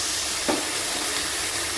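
Water poured onto ridge gourd and potatoes frying in a pan sets off a loud, continuous hiss of steam and sizzle that fills the short moment, with a brief splash as it hits the oil.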